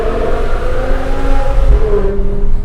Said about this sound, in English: that's not a stock exhaust. Simple muffler delete and X-pipe.